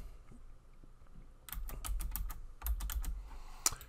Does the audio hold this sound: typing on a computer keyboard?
yes